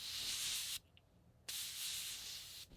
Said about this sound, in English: let's go ahead and set with some setting spray